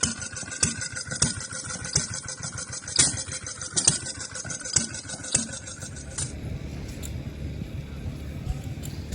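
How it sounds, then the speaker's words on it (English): A 1980s Kubota self-propelled push mower engine runs at a tractor show, chugging in a loud, close, pulsing rhythm that then eases to a quieter, smoother idle. "So this is a Kubota push mower."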